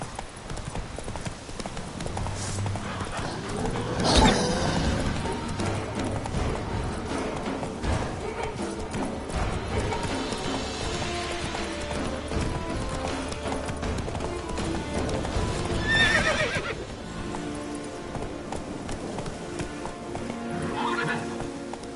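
Roach the horse gallops in a video game, hooves clip-clopping in a fast steady rhythm, with loud whinnies breaking through early on and again later.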